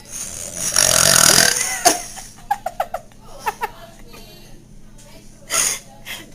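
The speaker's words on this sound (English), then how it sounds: "I'm gonna have a really big burp." A girl lets out one long, loud burp close to the mic, followed by a sharp snort and a run of giggles and laughter as others react nearby.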